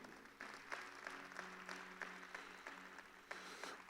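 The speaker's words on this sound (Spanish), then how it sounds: "Dale un fuerte aplauso al Señor." Church congregation giving loud applause, steady dense clapping from many hands with rhythmic emphasized beats, backed by sustained music underneath.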